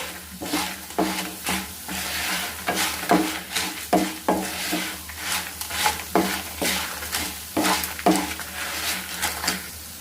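Lentils dry-roast in a pan for curry leaf powder, with a steady rhythm of rattling, scraping stirs and light grainy patter as the spoon turns them over, close and fairly loud.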